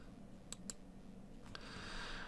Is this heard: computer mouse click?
yes